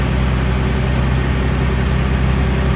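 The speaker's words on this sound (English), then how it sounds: "Let the engine do the work here." The engine of an M756A2 pipeline truck runs steadily during a recovery, a loud continuous low drone with a constant hum and no revving.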